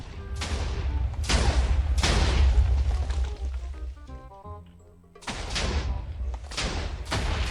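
Repeated loud explosion booms in Minecraft, several TNT blasts in quick succession with a brief lull in the middle, then more bursts.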